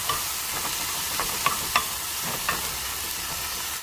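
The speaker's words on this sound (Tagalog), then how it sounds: "Haluin lang natin guys hanggang maluto yung ating mushroom and shrimps." Mushrooms and shrimps stir-fry with mixed vegetables and oyster sauce in a hot pan, a dense close sizzle broken by several quick scraping stirs, no voices present.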